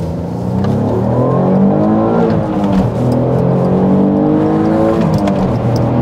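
A 3.2-litre Busso V6 in an Alfa Romeo 156 GTA pulls hard, its engine note rising and surging through gear shifts, loud and close throughout with no talking.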